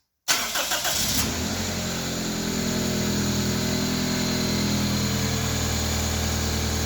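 A Toyota Carina 7A contract engine, a used engine that has covered 83 thousand km, cranks and fires, with a brief rattling start settling into a steady, loud, close idle that runs on alone.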